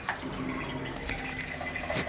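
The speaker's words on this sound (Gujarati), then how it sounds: "થોડુંક પાણી હજી નાખશું એમાં," Water poured into a clay pot of Maggi noodles, a soft steady trickle and splash running close by for about two seconds with no talk.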